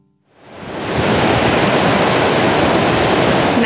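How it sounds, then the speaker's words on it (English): Ocean swell and surf roll in where the Murchison River meets the Indian Ocean at Kalbarri, Western Australia. A steady, loud broadband wash swells up within the first second and holds. "there's always a bit of a swell and some waves"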